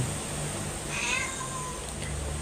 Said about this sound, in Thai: มันร้องแล้วมันปวดฉี่ แมวปวดเยี่ยว